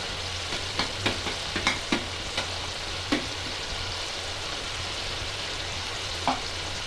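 Ginger garlic paste fries in hot oil for a Pulasa fish curry, a steady broadband sizzle broken by several sharp clicks and taps of a spoon against the pan, with no talk.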